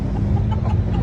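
Chickens and roosters at a rooster expo in Carbon Public Market, Cebu City, a dense, steady murmur of fowl noise and market bustle throughout, close and continuous with no clear individual calls standing out.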